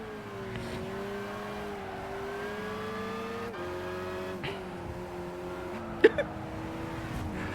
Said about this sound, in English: Beast of Turin is an old Fiat with a 28-litre engine